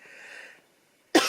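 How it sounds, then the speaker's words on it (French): A soft, steady tone fades out, followed by a pause and then a single abrupt cough at the very end. "Je tousse encore un petit peu."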